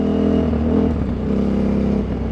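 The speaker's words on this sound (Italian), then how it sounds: "io sto guidando la KTM della Dakar bicilindrica di Giovanni Sala" A KTM 950 Adventure Rally twin-cylinder motorcycle, Gio Sala's 2003 Dakar bike, is ridden with a loud, steady engine drone close to the microphone, holding an even pitch throughout with no voices.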